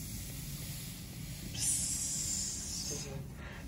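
A wet rag hisses against a freshly soldered, still-hot copper pipe joint: a bright steam sizzle rises abruptly, holds for over a second, then fades, with a low background hum and no talk.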